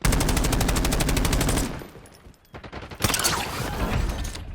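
Automatic gunfire in the Warzone video game: a long rapid burst, a brief lull with a few quieter shots, then another close, loud burst of rapid fire.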